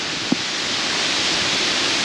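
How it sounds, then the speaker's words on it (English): Hard, wind-driven rain pours down outside a house in Pennsylvania, a loud, dense, unbroken hiss of heavy downpour. "this is a really hard rain"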